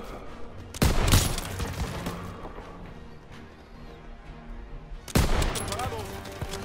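Loud gunfire bursts from Call of Duty: WWII during the battle for Marigny, two sharp volleys a few seconds apart with rumbling battle noise in between.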